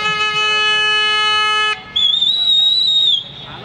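Protesters at a street demonstration blow horns, a long steady multi-tone toot held loudly, then a higher wavering whistle-like horn blast after a short break.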